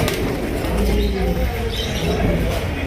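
Top-quality Lahori fancy pigeons flap their wings close by in a burst of fluttering and clapping, with faint cooing and chirps from other birds in the background.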